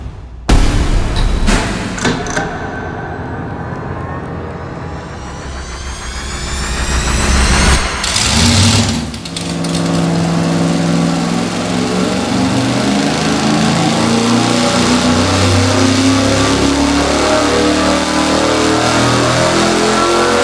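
A loud carbureted engine roars at high revs under load on a dyno, building and holding a sustained drone for a long stretch, very close and dominant.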